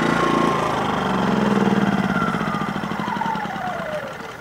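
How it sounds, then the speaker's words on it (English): An Atima AY2000i portable inverter generator running an RV air conditioner revs up under overload, its engine note rising and wavering with a pulsing drone, loud and close with no voices. "it will power the air conditioner for like a couple of minutes, but then it revs up and it overloads"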